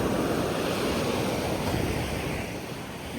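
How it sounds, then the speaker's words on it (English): Sea waves surge inshore along a beach on Montserrat, a continuous broad roar of surf that stays loud and steady with slight wind buffeting and no voices. "The sea is surging a little bit inshore."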